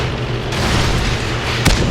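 A Chaffee light tank fights in a tank battle video game, with a dense, booming rumble of battle throughout and one sharp cannon shot cracking out near the end.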